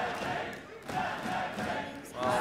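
Esports arena crowd at an EU LCS Spring 2016 playoff semifinal between G2 and Fnatic, a broad roar of cheering and shouts swelling in waves, with commentators talking over it.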